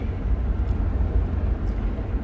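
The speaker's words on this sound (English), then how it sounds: "I'm following the helicopters and the cops." Police helicopters fly overhead near a lake, a steady low rotor and engine rumble that fills the clip loudly and without pause.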